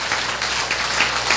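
A church congregation claps in applause, a dense, steady patter of many hands heard from across the room, fairly soft and without speech.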